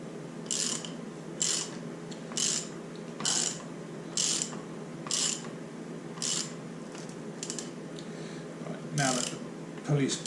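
Ratchet wrench clicking in steady bursts while tightening a nut to draw the pulley onto a Triumph Stag power steering pump shaft, about ten short ratcheting strokes close up over a low mechanical hum.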